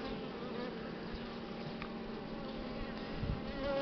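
Buckfast honey bees buzz densely around a nucleus hive, a continuous close swarm drone with individual bees passing near, steady and moderately loud.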